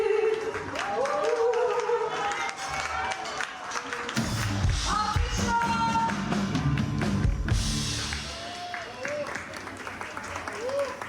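An audience at an Istanbul nightlife stage event applauds a singer as she is introduced, the clapping rising loud in the middle under a narrator's continuous talk.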